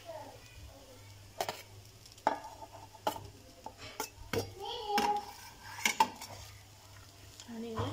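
Metal spoon scraping and clanking against a pot as fried eggs are stirred into a biryani mixture, with irregular knocks and scrapes, close and fairly loud, over a faint low hum.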